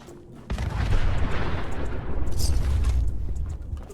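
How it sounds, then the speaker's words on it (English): Big explosions in Fallout 4 boom and rumble loudly through a dense, continuous low roar, with one sharp onset and sustained blasts, and no speech over them. "I have honestly absolutely no idea what those big explosions are"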